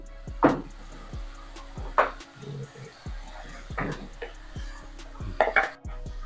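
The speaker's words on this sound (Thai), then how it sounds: "อันนี้ก็ทำการตักขึ้นนะครับ" Cooked Thai basil minced pork is scooped out of a pan with a metal spatula, several sharp scraping clanks against the pan in an irregular rhythm, close and fairly loud, with no talk.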